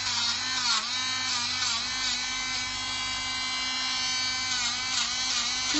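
An electric nail grinder hums steadily while grinding a dog's nails during grooming, a close, continuous high-pitched whine with slight dips in pitch as it presses against each nail.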